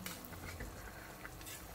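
Pork rib soup with white radish, seasoned with fish sauce, being stirred in a pot on the stove, giving a steady close sizzling and stirring texture with no talking.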